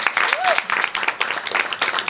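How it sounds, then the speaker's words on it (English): A City Hall audience applauds after a newly confirmed comptroller is introduced: a short burst of dense, busy clapping, with voices mixed in over it. "Let's give him a nice warm round of applause."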